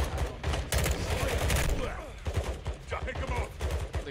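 Rapid gunfire from Modern Warfare II, a burst-heavy stream of shots with brief pauses, loud and close, with a voice talking over it.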